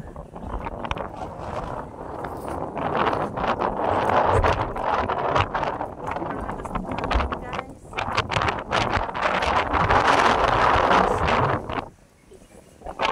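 Strong morning wind outdoors under an overcast sky buffets the microphone in loud, continuous gusts with rumbling low roar, easing briefly near the end before rising again.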